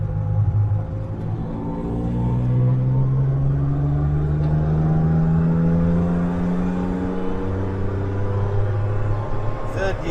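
A Suzuki Mighty Boy accelerating hard in third gear onto a highway, engine note rising steadily in pitch with a strong low rumble, close and loud, with a brief gear change near the end.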